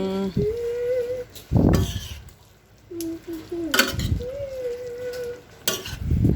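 A spoon stirs sautéed cabbage in a pan, with soft scraping and sizzling bursts breaking up steady cooking noise while someone talks at intervals.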